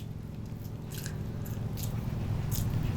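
Soft, moist squishing and faint pats as hands shape mashed soybean dough into small muitha balls, steady and close with a low background hum, no talking.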